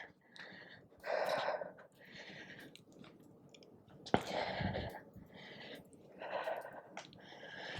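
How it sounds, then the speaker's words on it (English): Heavy breathing into a close microphone after a Pilates workout: several loud, ragged exhales and gasps at an uneven rhythm, with no words spoken. "Ignore my panting into the mic."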